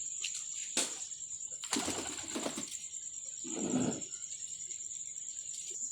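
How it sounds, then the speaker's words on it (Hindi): A chapda pigeon coos in a few short, soft bursts with quiet pauses between them, heard close against a steady high-pitched hum. "दूसरा ये चपड़ा कबूतर है"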